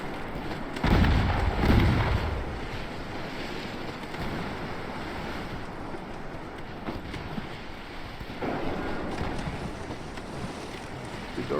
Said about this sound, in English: Did our torpedoes land? Both of them hit.